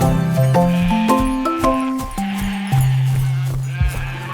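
Sheep bleat over and over, several wavering cries following one another closely, some overlapping, with a faint tinkle in the background.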